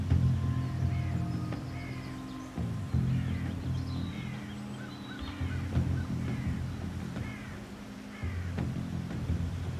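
Birds call repeatedly in the stealth game Shadow Tactics: Blades of the Shogun, short chirping phrases recurring every second or so over a steady low ambient drone, moderately quiet and with no talking.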